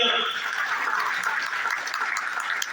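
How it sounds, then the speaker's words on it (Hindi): A crowd applauds at an awards gathering in Delhi, a steady wash of clapping running throughout while an announcer's voice carries over it. "एक बार इनके लिए जोरदार तालियां।"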